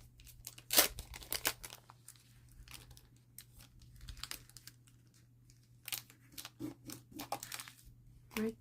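Paper being cut for a papercraft folder in a mixed-media craft project, with scattered crisp snips and crinkles spread irregularly across the clip over a steady low hum, no talking.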